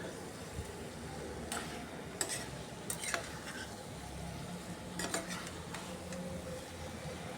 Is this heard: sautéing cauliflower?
yes